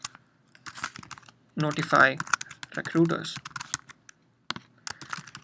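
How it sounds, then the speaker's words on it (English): Keys clatter on a computer keyboard while entering a recruiting automation rule in Zoho Recruit, quick bursts of close, crisp tapping that mix with a person talking over them. "I'm typing the rule"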